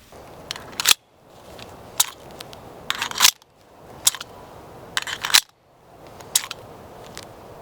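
The magazine of a CZ 83 .380 ACP pistol is repeatedly seated and withdrawn, producing sharp metallic clicks and slides in a regular rhythm, close and clear with no talk.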